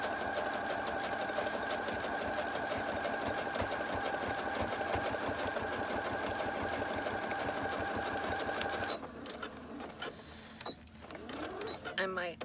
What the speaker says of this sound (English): I like to do the zigzag stitch over the yarn and fibers